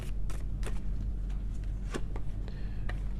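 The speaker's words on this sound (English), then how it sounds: "These cards are so hard to shuffle." Tarot cards being shuffled by hand with some difficulty, giving a run of soft papery riffles and flicks at close range over a steady low hum, with no talking.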